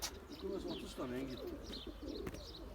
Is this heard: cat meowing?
no